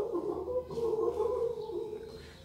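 Several young children in a kindergarten class imitate monkey calls together, a continuous chorus of warbling hoots lasting a couple of seconds, close and moderately loud.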